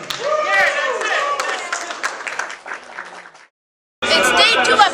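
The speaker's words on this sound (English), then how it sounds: "A nice round of applause." Audience applause at PaisanCon, an Italian-heritage gathering, rolls on as a dense, steady wash of clapping and crowd chatter, drops out briefly near the end, then surges back loud.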